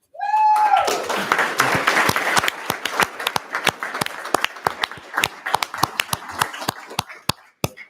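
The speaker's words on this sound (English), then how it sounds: "Chloe brought her own cheering section with her tonight" Applause and cheering at a school district governing board meeting for Chloe Keeling, the May Student of the Month. A brief high whistle opens a dense burst of clapping that thins into scattered, individual claps before ending.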